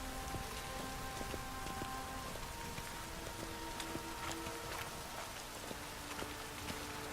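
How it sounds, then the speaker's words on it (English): Rain falls in The Witcher 3: Wild Hunt as a steady, even patter of drops on surfaces, with faint tonal hums from the game running underneath. "These are really funky looking raindrops."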